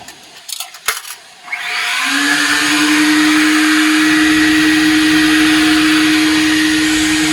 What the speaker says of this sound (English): Now let's go ahead and test the vacuum